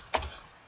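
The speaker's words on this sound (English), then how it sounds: "so I'm going to type employee ID" A single quick pair of computer keyboard keystrokes sounds close and brief, then fades into quiet.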